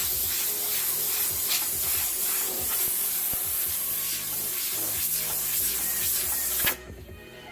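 An airbrush hisses continuously as paint sprays onto a crop-top t-shirt through a stencil, a close, steady airy spray with slight variations and small taps, ending in a sudden cutoff.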